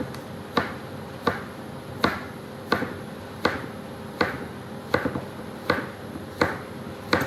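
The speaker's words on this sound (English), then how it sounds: "we're going to cut some half moon kind of bias slices" A knife cuts fresh farm squash into half-moon bias slices, making about ten crisp, evenly spaced chops against a cutting board in a quiet room.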